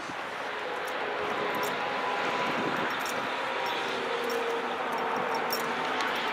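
A 2010 Mitsubishi Fuso cab-over turbo diesel dump truck with dual rear axles idles at a steady, even rumble with broad hiss. The sound is constant and moderately distant, with no talking.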